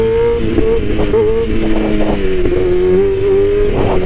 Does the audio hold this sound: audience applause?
no